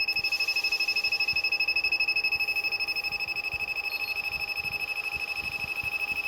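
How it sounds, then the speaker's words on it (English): A Woyo 007 dent repair machine heating up gives out rapid, evenly spaced electronic beeps. They come in a steady fast pulse from close by, and there is no talking. "when you hear the rapid beeping, that's it heating"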